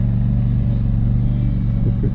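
Steady, close engine drone of a Scag V-Ride 2 stand-on mower with a 61-inch deck, running continuously at an even pitch with a slight rumble and no break.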